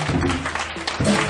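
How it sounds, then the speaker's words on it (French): A church congregation claps together in a brief, fairly loud burst of dense applause lasting about a second and a half, with some voices mixed in. "tous les applaudissements"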